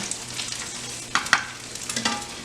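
An egg fries in a pan with a steady crackling sizzle, broken by a few sharper scrapes as a spatula loosens it around the edges; nobody speaks.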